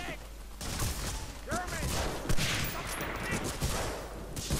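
Gunfire in the video game Medal of Honor Frontline: bursts of rifle and machine-gun shots crackle steadily over battle noise, with someone talking over it.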